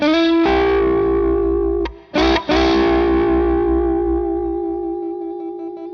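An electric guitar rings out two notes together with a wavering blues vibrato, heavily effected and sustained, with a brief break before fading out slowly.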